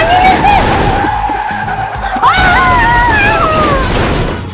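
A car skids with long, rising tire squeals over a loud engine rumble, one squeal near the start and a stronger, wavering one midway that trails off.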